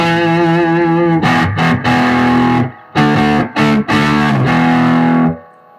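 Fender Telecaster electric guitar through a Golden Horse overdrive pedal with an overdriven, gritty tone, sustained chords struck several times with short gaps between them, loud and close.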